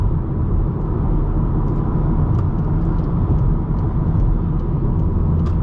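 Inside a 2019 Volkswagen Golf R with the six-speed manual and all-wheel drive cruising at highway speed, a steady, loud broadband drone of road and engine noise carries on without letting up.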